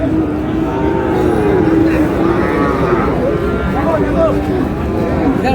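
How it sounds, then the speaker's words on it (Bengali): Six-month-old Friesian and crossbred bull calves at a busy cattle market in Dinajpur, with lowing mixed into a constant crowd murmur and nearby voices talking throughout. "ষাঁড় বাচ্চা"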